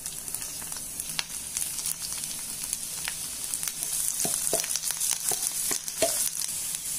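Garlic fries in hot oil in a pan for a Hindi-language honey garlic chicken recipe, giving a steady close sizzle with soft clicks of stirring and no talk.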